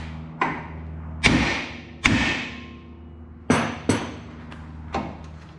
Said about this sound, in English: usually I beat it with a hammer, but you don't want to hit the thread